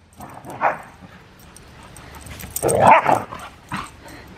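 Dogs by their backyard pool give a few sharp yips and short barks with whimpering, in close bursts separated by quieter gaps.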